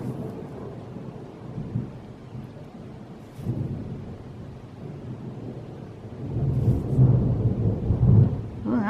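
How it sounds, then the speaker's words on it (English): A long, low rumble of thunder rolls through a storm, faint and distant at first, then swelling louder and deeper toward the end, with soft rain or wind noise behind it and no talking. "Oh, that was a good long rumble too."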